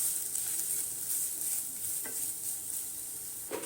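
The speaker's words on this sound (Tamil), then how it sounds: "தேங்காய் பூ நல்லா வதங்கிட்டோம்" Grated coconut sautés in a pan for sweet suzhiyam, giving a faint, even sizzle with two soft stirring knocks, close and quiet.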